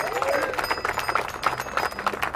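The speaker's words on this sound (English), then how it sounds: "Can we get a round of applause for 3 weeks?" An audience at a mayor's press conference breaks into applause, a dense patter of many hands clapping at once, fairly close, with some crowd murmur mixed in.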